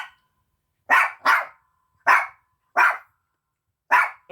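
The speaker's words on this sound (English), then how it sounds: "And I've got two dogs going mad." Sharp, excited dog barks ring out close and loud, five separate yelps in an uneven rhythm with silence between, as if from two dogs worked up at home.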